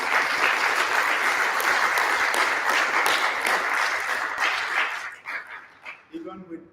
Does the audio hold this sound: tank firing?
no